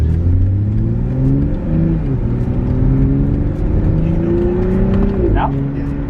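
A modified car accelerates hard, its engine note climbing through gears with a brief shift dip, then a sharp pop near the end, loud and close from inside or beside the vehicle.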